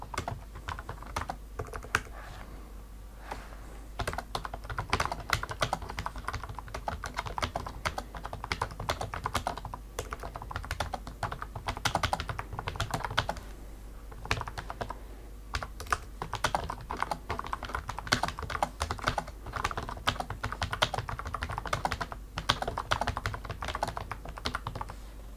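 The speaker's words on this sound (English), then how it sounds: "So what does this keyboard sound like then?" An UHURU wireless computer keyboard being typed on at a steady pace, with dense close key clicks and occasional heavier thunks, with brief pauses between bursts and no talking.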